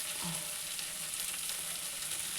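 Dosa batter sizzles steadily on a hot pan, a continuous close, even hiss with no voices over it.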